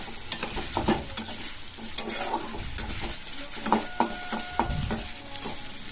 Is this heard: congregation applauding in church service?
no